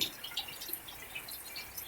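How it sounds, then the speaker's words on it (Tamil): Faint water drips tap irregularly through soft wet hiss during steady windless rain, quiet and close with no voices. "காற்று அடிக்காமல் மழை பெய்ஞ்சு ரொம்ப நேரம் பெய்யும், நிற்கவும் செய்யாது"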